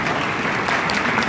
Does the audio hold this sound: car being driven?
no